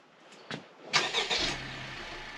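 A lifted four-wheel-drive Honda CR-V engine cranks briefly and catches, settling quickly into a quiet, low idle that continues steadily to the end.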